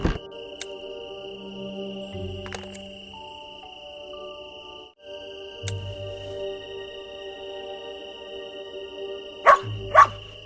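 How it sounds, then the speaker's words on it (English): In the video game Lost Lands 9, sheep give two short, sharp bleats that sound like barking, close together near the end, over quiet ambient game tones and chirping crickets. "Is that a sheep barking?"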